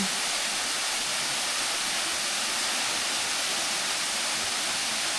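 Lost Creek Falls pouring steadily, a broad, constant roar of rushing water close by with no breaks and no voices.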